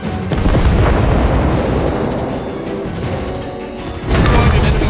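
An enemy warship blows up in the naval combat game World of Warships Blitz, a dense, loud rumbling blast that rolls on continuously and swells into a fresh heavy boom near the end.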